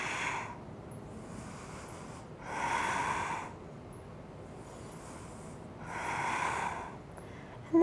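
Slow, audible breaths during a yoga stretch, a few long airy inhales and exhales spaced seconds apart, close and alone without talk.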